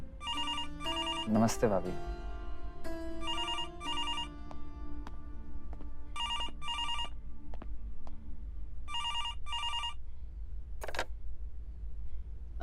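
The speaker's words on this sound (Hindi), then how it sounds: "आप फोन अटेंड कर लीजिए।" A telephone rings in bursts of repeated trilling rings, spaced several seconds apart, alongside a spoken greeting and music in a Hindi village drama.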